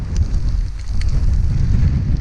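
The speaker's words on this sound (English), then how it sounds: "top of Whernside, very windy, very cold" Strong, cold wind on the summit of Whernside in the Yorkshire Dales on a rainy day roars and buffets the microphone in a loud, continuous low rush.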